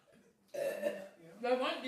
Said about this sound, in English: The burps is going around.